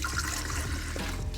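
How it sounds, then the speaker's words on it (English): Water pours steadily and splashes into an electric water boiler, a continuous close-up trickle with no talk. "Put some water in it."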